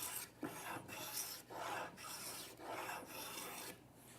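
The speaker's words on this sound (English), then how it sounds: "You see how I'm skewing it along, making those nice little curled shavings." A hand plane shaving the edge of a wooden board, skewed along the grain to lift curled shavings, five or six steady rasping strokes in a row, close but quiet, with no talk.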